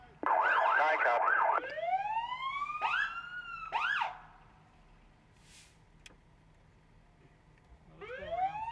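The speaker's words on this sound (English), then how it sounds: "Gate's supposed to open with the sirens." A fire department emergency vehicle siren wails loudly in rising and falling sweeps, cuts to short whoops, then fades before another rising wail returns at the end.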